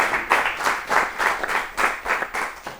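Studio audience applauding guests on an Ethiopian children's television show, a steady burst of clapping with rhythmic swells, close and fairly loud, with no talk over it.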